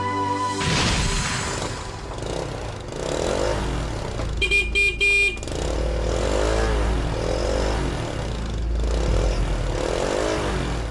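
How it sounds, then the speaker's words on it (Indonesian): A motorcycle arrives with engine rumble and a short burst of horn toots midway, moderately close, under background music with no one speaking. "Si Nela beli motor baru"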